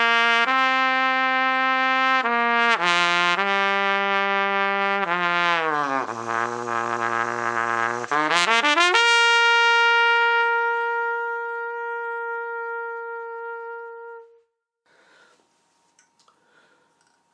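A trumpet drops to a pedal C and climbs in a run of connected notes up to a high C, held for several seconds before cutting off. Loud and close in a dry room during a James Stamp warm-up.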